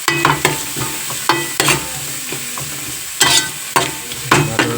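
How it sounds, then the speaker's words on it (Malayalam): Onions sautéed and stirred in a pan for a chicken roast, with sharp scraping stir strokes at irregular intervals over a steady low sizzle, close and fairly loud, no voices. "നമ്മൾ ഇനി സവാള നല്ല രീതിയിൽ വഴട്ടണേ."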